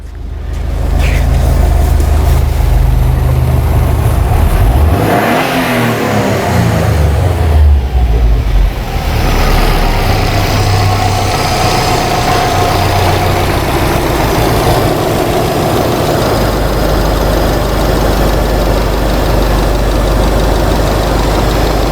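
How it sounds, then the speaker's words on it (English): A 2008 Subaru Legacy engine with a failing camshaft position sensor revs up sharply, then settles back to a loud, steady, rough idle, close up and with no talking. "Let's rev this thing again and see what happens."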